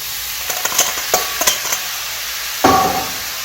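Beef goes back into a pan of stir-frying vegetables for beef lo mein: a run of rapid metallic clinks and scrapes from stirring over a hissing sizzle, then a louder burst of sizzling as food hits the hot pan.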